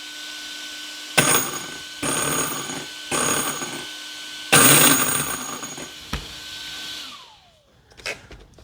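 An RC car's drivetrain with its pinion gears runs in short bursts at full throttle and reverse, giving a whirring, gear-laden whine that starts and stops several times before winding down.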